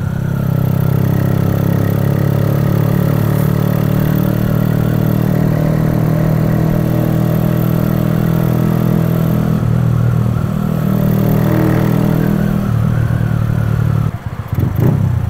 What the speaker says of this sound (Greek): Κοιτάξτε πόσο λίγο ανοίγω το γκάζι και πάει το μηχανάκι.